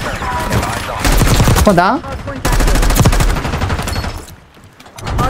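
Loud, rapid bursts of machine gun fire from a custom gun in the video game Call of Duty: Black Ops 6 crackle in sharp strings, with a short pause between volleys and someone speaking briefly.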